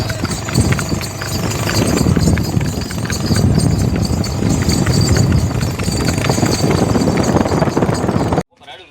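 A mare's hooves clip-clop in a fast, steady rhythm during a ride, loud and close over rumbling road and wind noise, before the sound cuts off abruptly near the end.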